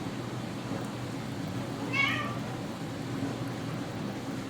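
A pet cat gives a single short meow during soap making at home, fairly close and brief, over a constant low background hum, with no one speaking.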